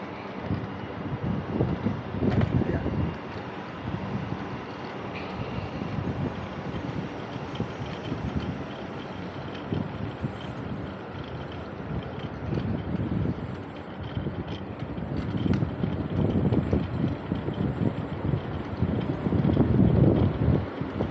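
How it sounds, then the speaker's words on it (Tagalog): Steady wind blows across the microphone, rising and falling in gusty surges with a low rumbling roar throughout and no talk. "Mahangin na siya, malamig-lamig na yung hangin niya tuwing umaga."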